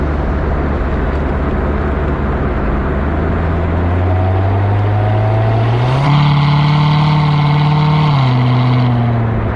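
A steady low engine drone from inside a moving Corvette with a modified exhaust, around 1700–1800 RPM, its pitch climbing gradually and settling into a louder, higher hum midway through.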